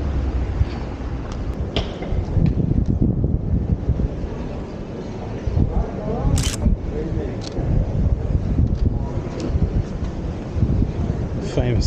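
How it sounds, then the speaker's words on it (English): Strong wind buffets a camera microphone outdoors on a city street, a Canon EOS M6 Mark II with a Laowa 9mm lens, producing continuous loud low rumbling gusts throughout while someone talks over it. "Hopefully you can hear me with all this wind"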